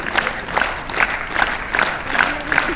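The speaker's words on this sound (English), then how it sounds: "Everybody clap." An outdoor street audience in London claps steadily for a performer sitting on a bed of nails, the applause mixed with some cheering and shouts from the crowd.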